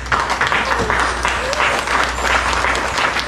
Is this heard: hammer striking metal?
no